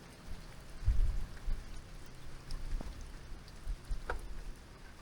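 Steady rain patters on surfaces with a soft broadband hiss, occasional louder drops, no voices.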